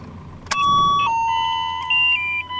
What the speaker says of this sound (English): you'll see that as soon as the pressure drops back down, why the alarm starts sounding and the light starts flashing